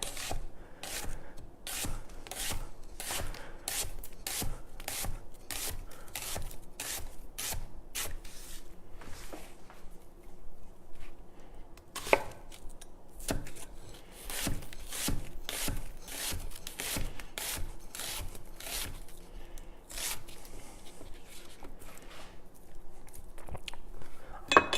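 A knife slicing an onion with the root end left on, a quick, regular series of crisp cuts striking a board, close and distinct, pausing briefly midway before resuming at the same even pace.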